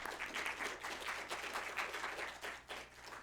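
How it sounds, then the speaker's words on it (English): Light audience applause after a speaker's introduction at an academic talk, a faint, steady patter of scattered hand claps from a modest crowd that thins slightly toward the end. "Thank you so much for the kind introduction, and also for that manufactured applause"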